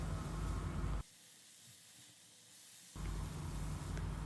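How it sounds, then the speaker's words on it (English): Mushrooms and spices sauté in a pan over a low flame, a soft, steady sizzle that drops out for about two seconds in the middle and then returns. "On low flame, we will now mix all these spices well along with the mushrooms and saute them for a few seconds."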